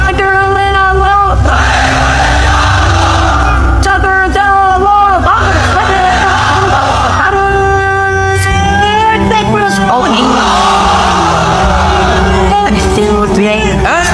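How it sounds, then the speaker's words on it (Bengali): Large crowd of unmarried men at a Bangladeshi Islamic sermon gathering roaring the chant Lillahi Takbir in loud repeated waves, voices swelling and overlapping with a leader's call between responses. "এবার অবিবাহিতরা দাও লিল্লাহি তাকবীর।"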